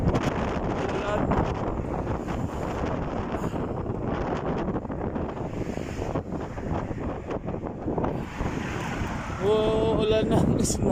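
Strong snowstorm wind roars steadily against the microphone while cycling, a loud buffeting rush that persists throughout, with a brief chirping sound near the end.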